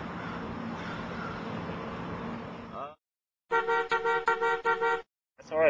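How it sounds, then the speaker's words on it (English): A car horn honks in short, clustered toots after a stretch of steady street noise and a brief pause, fairly close and loud, then one more honk follows. "I'll put a car honking right there."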